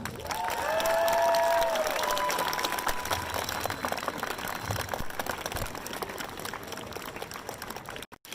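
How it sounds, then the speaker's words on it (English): Street protest crowd claps steadily, a broad wash of many hands with some whistles and cheers early on, continuing at even volume before cutting off abruptly. "Go ahead and clap, show some love."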